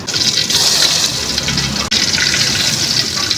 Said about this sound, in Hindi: अब गाइस इसमें तड़का ऐड करने लगे हैं।